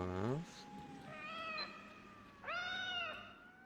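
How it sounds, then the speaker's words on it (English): A cat in STALKER Lost Alpha gives a few distinct meows, one short call then two longer drawn-out ones, close and clear over a quiet game background. "And a cat."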